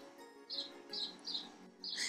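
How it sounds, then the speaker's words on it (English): Robins chirping outdoors, with several short, bright bird calls repeating at a steady pace over faint background noise, the last call slightly louder and fuller. "Oh wow, those birds are chirping. I think they're robins."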